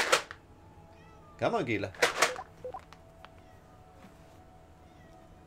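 A cat meows several times in quick succession near the middle, clear and close, with a person talking around it and other indoor sounds faint in the background.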